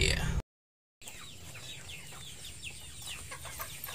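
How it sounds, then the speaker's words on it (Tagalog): Chickens on a garden farm cluck softly in a short series of close calls after a brief silence, waiting to be fed in the evening, against a low steady background hum. "magpapakain tayo ng mga manok"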